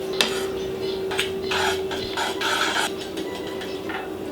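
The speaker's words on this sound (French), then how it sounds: "couteau blanc bien sûr, et on coupe en tranches" A knife cuts a pork fillet into slices on a board, giving short scraping, rasping strokes in a few bursts over a constant low electrical hum in a quiet kitchen.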